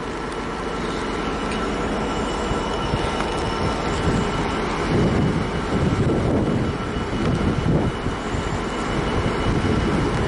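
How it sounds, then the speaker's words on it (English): A Northern class 195 diesel unit pulls out of Manchester Oxford Road on the 16:15 service to Liverpool Lime Street, a loud, close rumble of engine and wheels that swells in the middle with faint squealing on the rails. "So departing now is the 1615 Northern service to Liverpool Lime Street."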